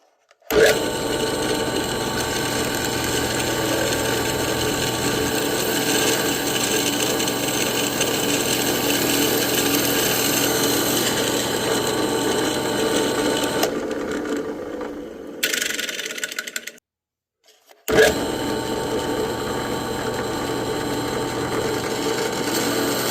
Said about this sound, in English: what I'm doing now is I'm using a tapered stone